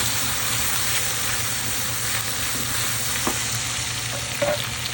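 Garlic paste frying in a hot pan while being stirred, giving a steady close sizzle with a few soft scraping taps of the spoon.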